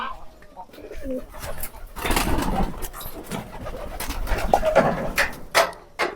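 Pigeons coo and flutter nearby in a busy, noisy pigeon farm, with scattered bird calls and shuffling sounds throughout.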